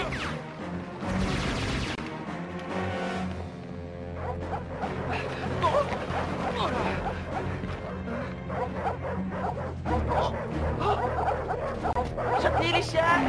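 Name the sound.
dogs barking, cartoon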